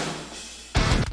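Rock snare drum sample from Joey Sturgis Drum Shots sitting in a full rock mix, a sharp loud crack arriving after a quieter stretch of band sound.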